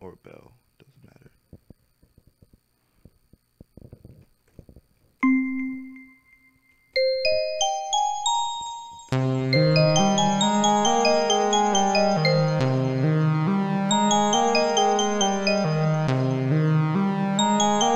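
Synth bell notes play in a beat built in Mixcraft with stock instruments. Single chimes come first, then a rising run, and then a dense, loud repeating pattern after some quiet clicks at the start.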